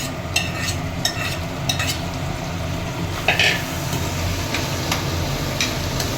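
A spoon stirs potatoes and tomatoes in a hot pan while making pava bateta, scraping in repeated, sharp clicks over a steady sizzle of frying, close and fairly loud with no talking.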